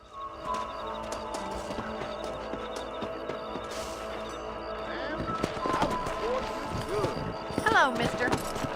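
A horse gallops in the Red Dead Redemption video game, with rhythmic hoofbeats under in-game ambience and occasional game sounds, and voices may be heard.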